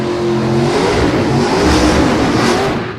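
A 400 cubic inch Chevrolet drag car engine at a street drag racing challenge revs hard and close, a continuous loud roar that swells in pitch and volume, then eases slightly at the end.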